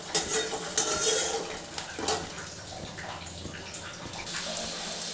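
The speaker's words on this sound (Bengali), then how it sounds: "এরপরে আমি একটা টমেটো কুচিয়ে দিয়ে দিচ্ছি" Chopped tomato hits a pan of browned onion with a sharp burst of sizzle that settles into a softer crackling fry, broken by a few spatula scrapes and clinks.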